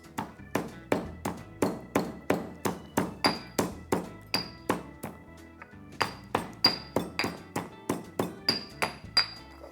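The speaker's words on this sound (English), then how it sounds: "I'm going to add in some cumin seeds and pound it coarsely" Cumin seeds pounded coarsely with fresh ginger, chili and garlic into a masala in a mortar and pestle: steady, close rhythmic thuds, about two a second, with bright ringing clinks on some strikes and a brief pause midway.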